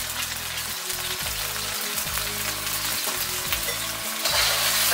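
Chilli chicken with soy sauce and ketchup sizzling in a hot pan, a dense, steady frying hiss with rhythmic scraping strokes of a spatula roughly every second, close and loud.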